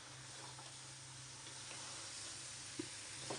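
Onions frying in a pan in a kitchen, cooked for a duck recipe, give a soft, steady hiss and sizzle with a few faint clinks of stirring and no talking.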